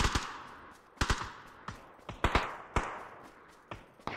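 Repeated gunshots in PUBG, sharp cracks in uneven bursts with close loud shots mixed with fainter distant fire during a firefight, no voices.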